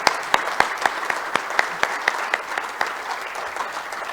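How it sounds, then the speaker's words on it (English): An audience at a Toledo Rotary club meeting claps steadily for several seconds, the individual claps sharp and close, with no talking. "So if we could give them a round of applause,"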